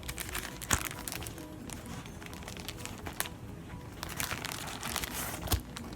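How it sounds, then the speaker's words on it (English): Sticker sheets from a discount store haul are flipped through one after another, giving continuous papery crinkling and rustling with a few sharper snaps as sheets turn, close and moderately soft. "I'll just give you a little flip through to see what all comes in there."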